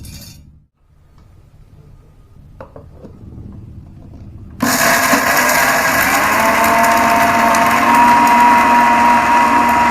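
A kitchen mixer grinder grinds dried shrimp into powder. It is quiet and sparse at first, then the motor starts loud and whines on steadily to the end.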